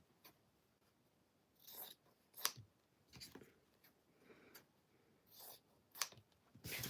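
Scissors cut through fabric during a sewing session, heard as a handful of short, faint snipping bursts spread out over a quiet background, with no voices.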